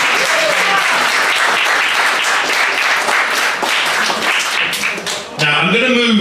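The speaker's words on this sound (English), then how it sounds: "I think that deserves a round of applause" Audience at a live music gig in a Liverpool venue applauds, steady close clapping with voices mixed in, ending in a brief swell of noise and a voice.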